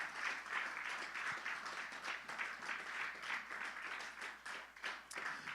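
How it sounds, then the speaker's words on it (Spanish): Congregation applause at a church service, a broad steady wash of many hands clapping at moderate distance with a faint hum underneath, continuing without a break. "Un aplauso fuerte al Señor"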